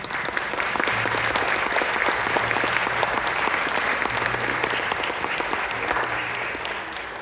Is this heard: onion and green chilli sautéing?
no